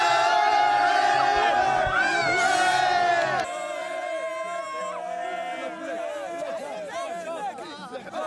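Moroccan fans celebrate in Rabat after Morocco qualifies for the World Cup quarter-finals, a crowd of shouting, cheering and chanting voices, loud and close, with a reporter talking over the noise.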